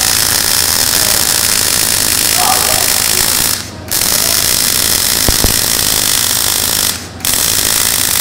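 Welding on 14 gauge cold roll steel gives a loud, continuous buzzing crackle that runs steadily close by, broken twice by short pauses.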